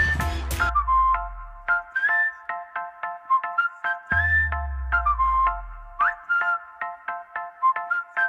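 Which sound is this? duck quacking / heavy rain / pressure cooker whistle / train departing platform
pressure cooker whistle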